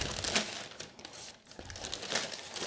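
Paper wrapping around a pair of Fortis wholecut oxford boots crinkles and rustles during unboxing, a close, continuous crackle with short pauses and no talk.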